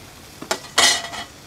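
Metal lid set down on a frying pan holding skin-on meat, two sharp clanks close together followed by a brief ringing scrape, loud and near with no talk.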